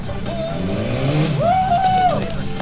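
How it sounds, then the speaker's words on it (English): At a 2016 motorcycle stunt show in Cleveland, Ohio, a BMW motorcycle spins around with a loud, steady engine roar and a rising, whining tyre squeal midway, with a noisy crowd setting behind. "And you'll spin that machine around one more time."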